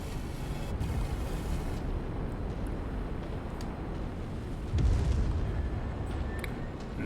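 Destroyed target blowing up in MechWarrior 5, a dull rumbling explosion low under steady battle noise, with a heavier boom swelling near the end; no one talks.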